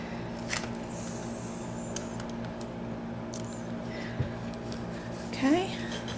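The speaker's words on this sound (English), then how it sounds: "I'm just going to tear it." Paper torn by hand while making a recycled journal cover, a short, soft ripping burst near the end over a quiet room background with some faint handling noises.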